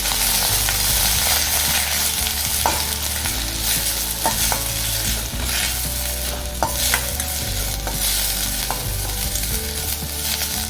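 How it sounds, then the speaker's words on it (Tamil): Thuthuvalai leaves sautéing in hot ghee, a loud dense sizzle with occasional sharp spatula clinks against the pan, continuous and close, with no one speaking. "இதோடு இந்த தழையும் போட்டு வதக்கிக்கலாம். நெய்யில் பறக்கும் போது நல்லா வதங்கினா போகிறோம்."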